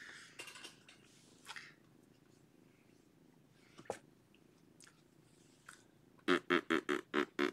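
A cat purring at close range during play, with faint scattered rustles early on, then a run of strong, evenly spaced rhythmic purr pulses toward the end.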